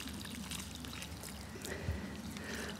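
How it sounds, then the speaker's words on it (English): Water pours steadily from a full watering can onto garden plants outdoors, a continuous soft splashing trickle with faint background ambience. "So let's go and water some plants."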